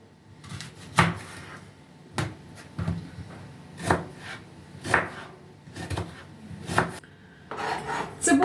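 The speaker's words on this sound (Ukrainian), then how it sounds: "цибульку порізали" A knife chops an onion on a board in slow, uneven strokes, each a crisp thud, with about eight cuts and no talking.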